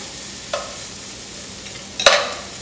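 Onions sizzle softly in a pan, a low steady frying hiss broken by two brief stirring scrapes, the second one louder, with no voices.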